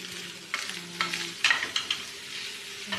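Sardines frying in a pan, a steady close sizzle with crackling pops and a few sharper stirring scrapes over about three seconds.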